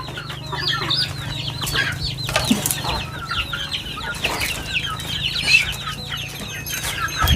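Farmyard chickens clucking in short, repeated bursts over a steady low hum, fairly close, with no talking.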